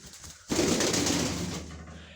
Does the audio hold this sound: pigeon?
yes